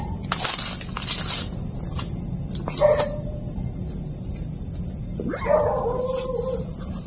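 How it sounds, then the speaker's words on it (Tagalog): A dog barks a few times out in a dark forest at night, sharp yips standing out around the middle and again near the end against a constant high insect drone. "May aso. Kanina yan, tahol."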